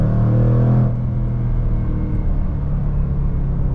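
A 2024 Jaguar F-Pace SVR V8 settles after a downshift, a loud low rumble with a brief higher engine tone at first that drops away into a steady, heavy idle-like drone, with no talking.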